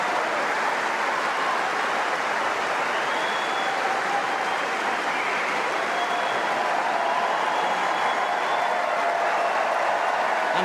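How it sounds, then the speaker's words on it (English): Tennis spectators at a 2025 semi-final applaud Jannik Sinner after his win over Novak Djokovic, a broad, sustained ovation from a large stadium crowd, steady and moderately distant, with faint cheers and whistles riding on top. "And the applause is for him now."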